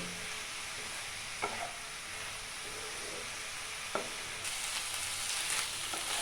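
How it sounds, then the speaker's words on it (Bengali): Spinach stirred and cooked down in a pan, a steady soft sizzle with a few light scrapes of a spoon against the pan, close and unhurried, with no voices. "পালং শাকটাকে ভালো করে নাড়াচাড়া করতে হবে যতক্ষণ না শাকটা মজে আসে"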